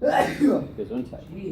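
A sharp sneeze bursts out at the start of a physics lecture, followed by a short spoken reaction from a nearby voice.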